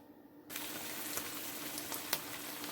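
Chicken spiedie pieces sizzle steadily in a pan after a quiet start, a dense crackling fry with occasional sharper pops and a faint stir.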